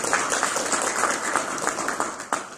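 Audience applause at a lecture event in Radom, a steady patter of many hands clapping from a seated crowd, moderately loud and continuous, thinning slightly toward the end.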